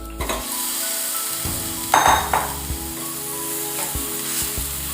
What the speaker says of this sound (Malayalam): നമ്മുടെ മസാല വഴന്നിട്ടുണ്ട്. നമുക്ക് ഇറച്ചി ഇട്ട് കൊടുക്കാം.